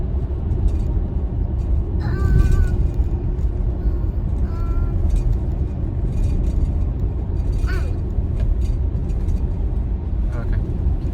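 Inside a Tesla cruising on a highway, a steady low road rumble and tyre hum fill the cabin, with voices talking intermittently over it.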